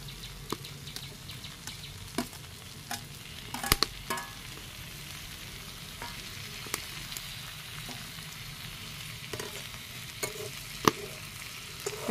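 Raw small fish dropped into a hot frying pan for an Assamese dish with spinach, potato and white mustard, giving a steady, moderate sizzle with occasional sharp crackles and spatters throughout.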